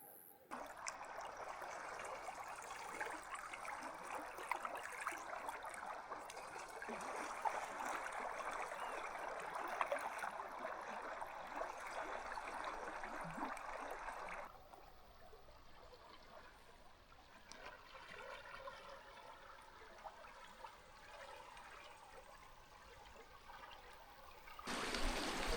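A small spring-fed stream in the taiga runs with a steady, soft trickle and gentle babble, faint and continuous, its tone shifting slightly partway through.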